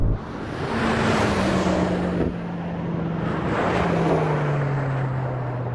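A BMW M5 launching hard in a drag race, engine roaring loud and near with a droning tone and rising pitch, the rear wheel shuddering on cold tyres, with no talk.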